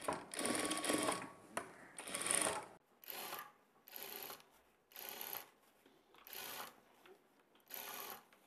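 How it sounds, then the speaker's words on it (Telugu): A sewing machine stitches a blouse seam with a half-inch margin in short close bursts, whirring and clattering mechanically, with about seven runs separated by brief quiet pauses. "1/2 ఇంచ్ మార్జిన్తో ఇంకొక స్టిచ్ వేసుకోవాలి"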